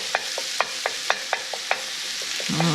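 Garlic sautéing in a little oil in a pan: a soft sizzle under a series of about ten light, evenly spaced scraping stirs, with no talking.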